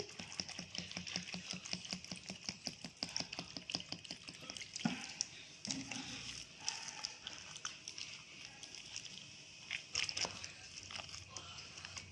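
Water is poured over ripe wood apple (bael) seeds to clean them, giving a wet splashing and trickling mixed with rapid clicking and rattling, steady at first and then more scattered.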